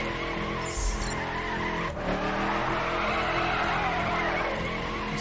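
A 1967 Chevrolet Impala drifting in the racing game The Crew, its engine droning steadily while tires squeal and skid through a slide, loud and continuous without pause.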